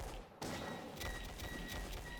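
Gunfire in the Bannerlord Empires of Europe 1700 mod: a sudden burst of shots erupts, followed by a few more scattered cracks over a dense, rumbling battle din.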